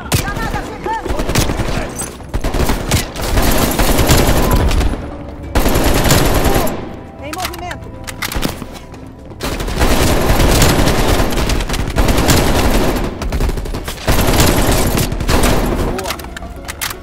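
Call of Duty Black Ops Cold War gunfire, sustained automatic bursts and rapid shots blasting loud and close almost nonstop, broken by short pauses, with shouted voices in between.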